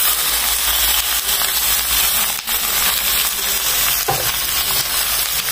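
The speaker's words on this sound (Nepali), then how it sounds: "मासु राखेर राम्रै चलाएँ।" Chicken meat frying with onions in a hot pan, a steady loud sizzle and hiss with occasional scraping from stirring, no voices.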